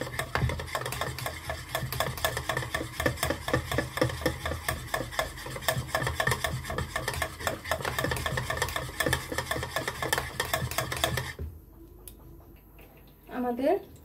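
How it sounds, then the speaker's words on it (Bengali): A handheld electric blender whirs steadily through gram flour batter for frying eggplant fritters, a dense rasping buzz that runs for about eleven seconds, then cuts off, leaving near silence with a brief clatter at the end. "এখন আমরা বেসনটা একটু ভালোভাবে আবার হ্যান্ড ব্লেন্ডারের সাহায্যে একটু"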